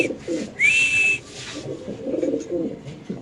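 A male Lahori pigeon gives a close, clear coo, with a brief rising whistle-like note in the middle, set against faint background murmur and rustling.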